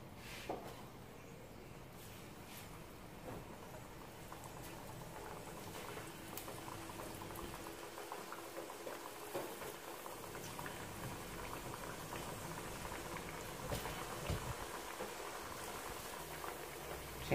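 Banana slices fry in a pan for vegetarian banana medallions, giving a continuous, fairly quiet bubbling crackle of hot oil that holds steady and builds slightly toward the end.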